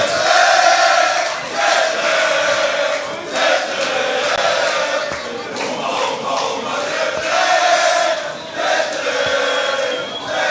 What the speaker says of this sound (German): Das Publikum macht hier richtig Stimmung gerade mit Humba